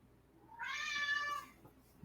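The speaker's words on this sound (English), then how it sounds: "Meow." A cat gives a single clear, drawn-out meow lasting about a second, close and alone against quiet background hiss.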